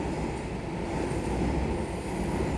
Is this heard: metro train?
yes